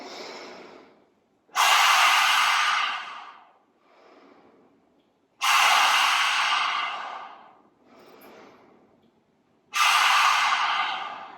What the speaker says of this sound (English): We'll do 5 lion's breaths. So sticking out your tongue, bugging out your eyes.